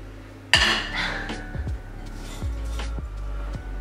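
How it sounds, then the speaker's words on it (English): A saucepan is handled in a home kitchen, giving one sharp metallic clank followed by several lighter knocks and rattles of the pan close by. "So grab yourself a saucepan"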